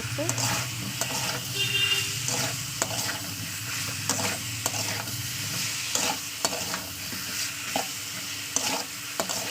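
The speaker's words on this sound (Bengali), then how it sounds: "আলুর সঙ্গে তেল দিয়ে ভালো করে মিশে নিচ্ছি" Potatoes being stirred and fried in oil for a Bengali fish curry with peas, a steady sizzle with repeated spoon scrapes against the pan, close and continuous.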